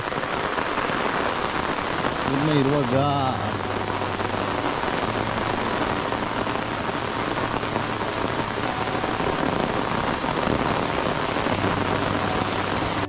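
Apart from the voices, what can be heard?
rain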